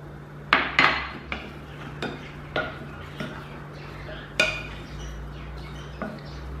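Spices stirred into raw chicken wings in a bowl for buffalo wings, with a handful of distinct utensil clinks and knocks against the bowl, spaced irregularly over a low steady hum.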